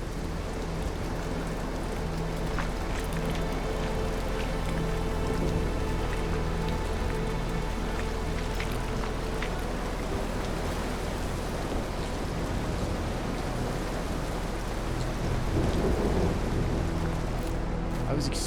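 Rain pouring during a thunderstorm in The Caribou Trail, a WWI narrative adventure game, steady hiss of rain on surfaces with low thunder rumbling underneath and a heavier swell near the end.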